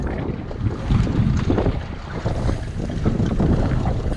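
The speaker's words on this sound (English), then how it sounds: "Very windy. Very." Strong wind at a harbor buffets the microphone in loud, gusty rumbles, with roaring surges rising and falling throughout and no voices.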